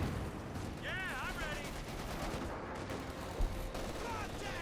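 Machine gun and artillery fire from a video game battle rattle faintly and distantly beneath a speaking voice.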